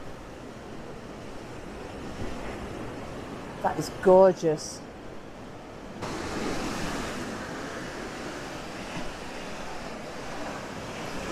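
Sea waves break steadily on Blackpool South Beach, a broad continuous surf wash with some wind noise, growing fuller and louder partway through, while a person briefly speaks over it.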